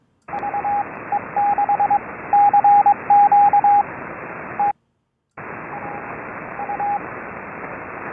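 An amateur radio CW Morse code transmission plays as a single steady tone keyed on and off in short and long beeps over band hiss, with one brief dropout partway through.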